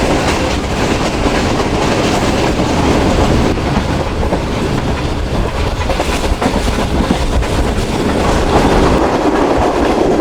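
The Shalimar Express rolls along its rails between Bahawalpur and Karachi, heard from inside as a loud, unbroken rumble with steady wheel clatter throughout.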